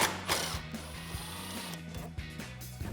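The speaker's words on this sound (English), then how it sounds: "So I'm going to use a 10mm socket to remove this bolt" A ratchet fitted with a 10mm socket backs a bolt off a Jeep Wrangler JL airbox in quick, close clicking bursts with a steady mechanical rhythm.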